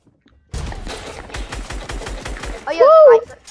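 A rapid string of gunshots in Fortnite, a dozen or so sharp, evenly spaced reports, close and loud, followed by an excited vocal shout.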